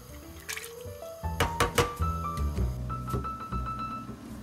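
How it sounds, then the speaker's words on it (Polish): Water rinsed from tomato cans splashes and dribbles into a pan of tomatoes in short uneven pours, with wet squishing and rising filling tones, close by. "Puszki przepłukujemy wodą i dodajemy ją do pomidorów."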